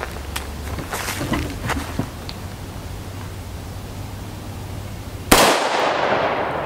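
5.56 rifle rounds, IMI M193 ball, are fired at a steel armor plate in a cold test. Several faint, sharp cracks sound early on, then one louder, abrupt burst near the end, with a steady background hiss throughout.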